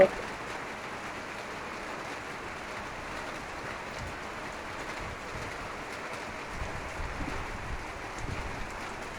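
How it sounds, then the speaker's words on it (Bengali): Steady, even monsoon rain hiss over a village river continues throughout at moderate loudness, with a few faint rumbles underneath. "শুনতে থাকেন বৃষ্টির শব্দ"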